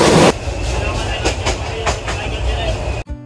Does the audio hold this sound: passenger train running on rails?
yes